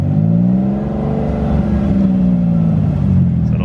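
A car engine revs at a crowded car meet with heavy traffic and police nearby, a loud, sustained low rumble rising and falling in pitch while a voice talks over it.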